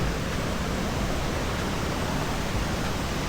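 A waterfall in a Saraburi national park rushes with a dense, steady roar of falling water, loud and unbroken, with no voices over it.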